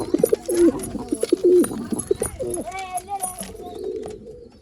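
Old line pigeons for sale in Bangalore cooing in repeated soft, throaty bursts close by, with chirps and scuffling among them and a voice talking over part of it.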